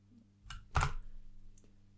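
A mechanical keyboard fitted to a ThinkPad gives a couple of sharp, loud key clicks, including the backspace key, close up in a quiet room.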